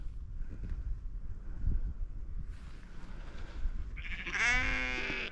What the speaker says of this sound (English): It's a sheep puppy.